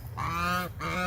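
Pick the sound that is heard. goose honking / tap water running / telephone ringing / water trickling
goose honking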